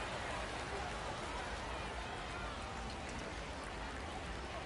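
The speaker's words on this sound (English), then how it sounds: "Little rain tonight in the ballpark." Light rain falls steadily over an evening minor-league ballpark, a dense, even hiss of drops spread across the whole stretch with no break, close and constant, with no clear voices above it.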